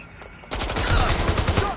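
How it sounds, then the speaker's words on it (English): A rapid burst of gunfire from Watch Dogs: Legion erupts after a brief quiet moment, loud repeated shots rattling on in quick succession. "Shots fired!"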